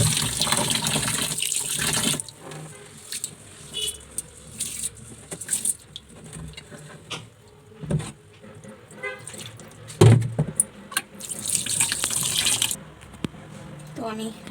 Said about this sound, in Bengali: আমি এখানে চাল ধুয়ে নিলাম।